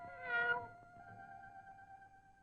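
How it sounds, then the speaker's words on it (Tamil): A single cat meows in a drawn-out, rising and falling cry, close and clear, then a steady two-tone musical drone continues softly behind it. "சுவாமி, இதோ பூனை."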